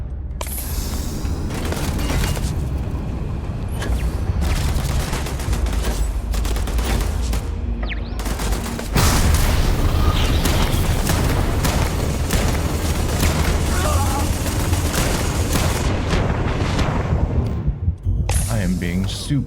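Sustained gunfire from turrets in the video game Starfield, with dense, rapid bursts of shots and booms hammering almost continuously, loud and close, with some talk mixed in.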